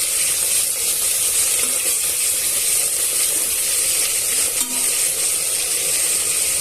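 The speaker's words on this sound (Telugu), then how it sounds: "ఇలా పెరుగుని వేసుకున్న తర్వాత ఇవన్నీ బాగా మిక్స్ చేసుకోవాలండి" Curd being stirred into an aloo matar pulao mixture in a pan, giving a steady, close soft scraping and mixing noise with faint sizzling, continuous throughout without speech.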